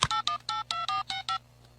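Cartoon telephone keypad beeps: eight short, evenly spaced dialing tones in a quick steady rhythm, clear and close with no talk, then a faint trailing tone as it ends.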